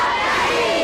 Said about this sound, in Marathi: त्यांनी जोरदार टाळ्या.